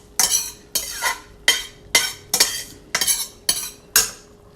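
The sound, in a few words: scooping stuck pasta out of a pot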